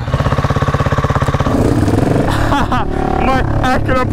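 A loud supermoto motorcycle with a straight-pipe exhaust idles with a deep, rapid exhaust throb, then keeps rumbling close by as people talk over it.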